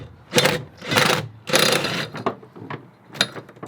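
Ratchet with an extension working on the upper brake pedal bolts of a BMW E30, up under the steering column; several close bursts of rapid clicking separated by short pauses, with no talk.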